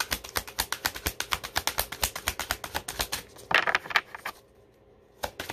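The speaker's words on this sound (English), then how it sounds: "I want to shuffle again, but I'm scared a lot of cards will come out." Tarot cards being shuffled, giving a long run of quick, crisp riffling clicks in a steady rhythm up close, then a denser flurry before a short lull and a final rustle.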